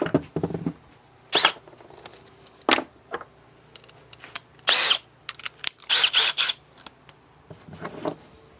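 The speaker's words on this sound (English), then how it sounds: "We're going to drill a hole right there. Actually, we're going to drill 2 holes." A power drill bores holes in a wooden birdhouse in short, scattered bursts, quiet and close, with brief whirring and scraping spurts separated by silence.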